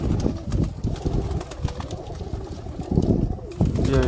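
A Kamagar pigeon of the Sialkoti type coos in low, throaty pulses, close by and repeated, amid other pigeon sounds and people talking.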